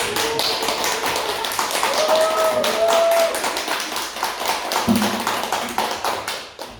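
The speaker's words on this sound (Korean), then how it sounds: "큰 박수 준비되었습니다" An audience applauds a guest speaker at a mission lecture, a dense, lively clatter of many hands clapping close by that holds steady for several seconds before tapering off at the end.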